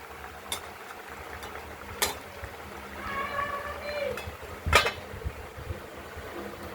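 A lid goes onto a pot of ridge gourd cooked with poppy seed and green chili paste, with a few light knocks and one clear, louder clank against a quiet room background.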